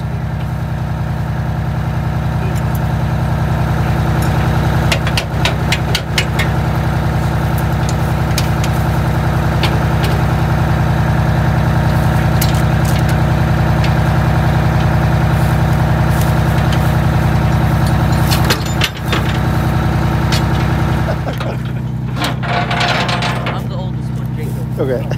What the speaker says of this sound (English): That's a rollback trailer.